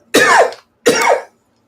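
Two hacking coughs from people nearby, each about half a second long and separated by a short pause, loud and clear with no talking.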